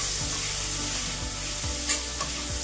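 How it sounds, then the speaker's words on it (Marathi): Rice sautéing in ghee for coconut rice gives a continuous, close, even frying sizzle with faint stirring scrapes throughout. "आता आपल्याला तांदूळ छान परतून घ्यायचा आहे तुपावरती"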